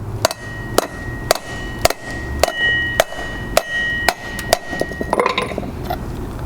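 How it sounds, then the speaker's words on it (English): An old brake pad used as a driver to hammer an oil seal into a trailer wheel hub, giving about ten sharp, evenly spaced metallic knocks at roughly half-second intervals, close and loud, then a short clatter at the end. "I'm just going to get a piece of wood again and hammer it down evenly"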